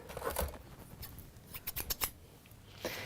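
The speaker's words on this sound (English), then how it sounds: "use your paper scissors" Paper scissors snip in a quick series of crisp cuts through paper-backed fabric, close and fairly quiet, with a short pause before a final snip.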